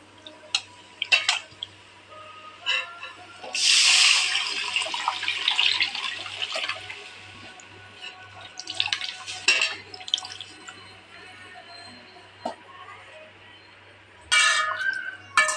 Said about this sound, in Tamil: இந்த புளி தண்ணியை ஊற்றிக்கலாம்